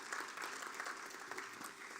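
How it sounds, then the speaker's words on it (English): Steady applause from an audience at a forum in a theater, many hands clapping continuously at a distance, fairly quiet with no voices standing out. "let's give our media partners a warm round of applause"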